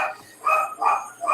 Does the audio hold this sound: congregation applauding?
no